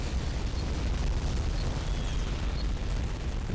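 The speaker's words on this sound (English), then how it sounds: "this just delightful, constant explosion sound effect blasting out your speakers" Constant video-game explosion effect on a home planet, a dense, unbroken roar of booming blasts filling the whole stretch, loud and steady with no pauses and no voices.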